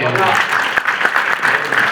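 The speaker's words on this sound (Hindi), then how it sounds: "एक बार तालियां हम लोगों ने," Audience applause at a mushaira, Urdu poetry gathering: steady dense clapping for two seconds, fairly loud, with a few sharper claps and some voice-like bands mixed in.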